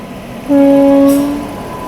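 The Capital Express, which runs between Kamakhya and Ara, sounds one loud, steady horn blast of under a second over a low rumble of rail noise.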